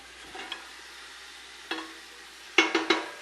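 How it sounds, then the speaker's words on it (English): Bacon goes into a heavy pot on medium-high heat, producing a soft background hiss broken by a few sharp knocks and scrapes of a utensil against the pot, close up with no voices. "We're going to add our bacon in."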